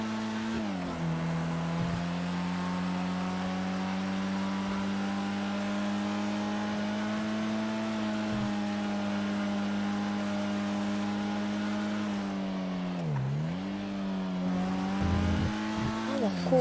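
A car engine drones in the GTA V video game, holding a steady high-revving tone while driving slowly, with a brief dip and recovery near the end, under faint background voices.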